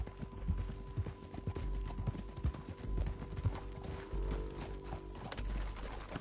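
Horse hooves clip-clop at a walk in Red Dead Redemption 2, a quiet, uneven plodding rhythm with soft ambient game sound underneath and no speech.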